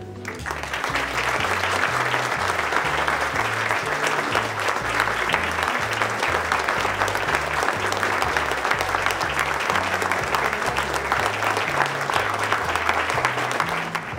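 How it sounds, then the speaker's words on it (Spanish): A standing audience gives sustained, steady applause in honour of writer Daniel Sada, a dense, even wash of many hands clapping that continues without a break from start to finish. "Les pido en este momento que por favor se pongan de pie para dedicarle un minuto de aplausos en honor al narrador, poeta y maestro Daniel Sada."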